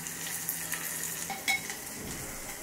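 Onions frying in hot oil for the tempering of Andhra-style mango dal give a steady, soft sizzle, broken by a few light stirring clicks and scrapes, with no voices.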